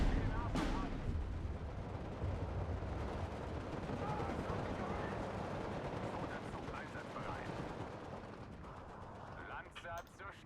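Machine gun fire crackles in the WWII strategy game Steel Division 2 as part of a dense, rumbling battle din with distant artillery, continuous and loud, and someone talks over it.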